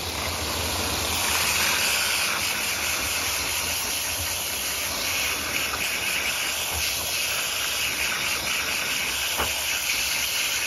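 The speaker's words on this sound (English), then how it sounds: "so I wanna see if I can rinse it off." Running water rinses iron buildup off a washable well water filter, a steady, even hiss of spray that continues unchanged for the whole stretch.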